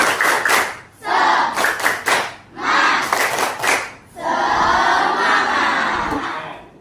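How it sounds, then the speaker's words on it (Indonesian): A classroom group performs a rhythmic clapping chant, bursts of clapping and shouted voices in repeated phrases with brief pauses, ending in a longer sustained cheer-like clap section, loud and close. "bagaimana kita tepuk semangat dulu biar kalian pada semangat. Tepuk semangat."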